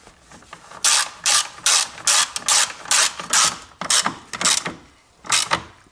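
Ratchet tightening a car battery hold-down bolt, a run of about a dozen close, crisp ratcheting bursts in an uneven rhythm with short gaps.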